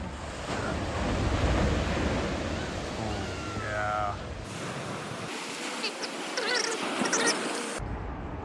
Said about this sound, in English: We're gonna take you down to the berm right now and show you all these waves washing up into it